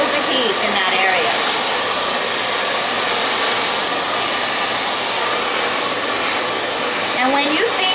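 A hair dryer blows hair dry while it is styled into waves, a loud continuous airy whoosh close by, with faint shifts as the dryer moves and soft talk briefly underneath.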